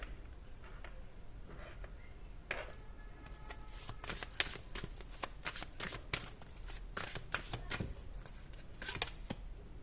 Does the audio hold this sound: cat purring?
no